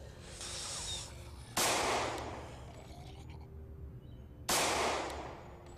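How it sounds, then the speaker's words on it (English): Two sharp, loud gunshot blasts in the video game Project Zomboid, a few seconds apart, each decaying quickly over a low background rumble. "Hi, super loud gunshots."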